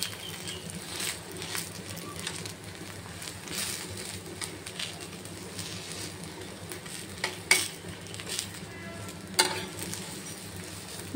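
Cheese dosa cooking on a hot pan, a soft steady sizzle with occasional scrapes and clinks of a spatula against the metal, fairly quiet and close, with no voices.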